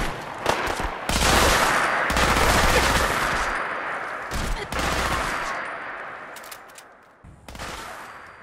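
A modded weapon fires in Fallout 4 in loud, close bursts of rapid gunfire, several long volleys separated by short gaps, with no voices over the shooting.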